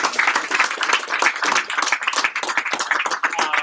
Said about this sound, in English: So let's give you guys a big round of applause for that.